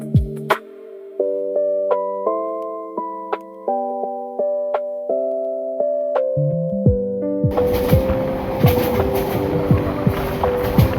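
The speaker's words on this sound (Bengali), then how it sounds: "ট্রেনের এই ঝকঝক শব্দটা যেন হৃদয় ছুঁয়ে যাচ্ছে।" A melodic tune plays, then cuts to a loud passenger train in Bangladesh gradually gaining speed, its wheels clacking in a steady rhythmic beat over the rails.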